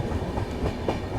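A train runs along the Rajkot to Kanalus rail line as it crosses Haladiya junction, giving a steady, continuous rumble of rolling wagons with faint rhythmic clatter throughout.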